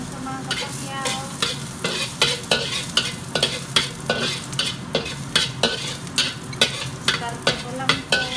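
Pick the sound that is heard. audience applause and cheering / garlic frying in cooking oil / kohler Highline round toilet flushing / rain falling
garlic frying in cooking oil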